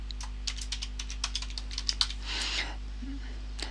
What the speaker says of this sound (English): So just enter the password.